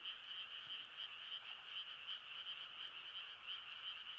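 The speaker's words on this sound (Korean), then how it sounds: "시골 한밤에 개구리는 시끄럽잖아요." A dense chorus of frogs croaking at night in the countryside, a continuous high trilling wall of calls with small pulses, steady and loud throughout with no other sounds or voices.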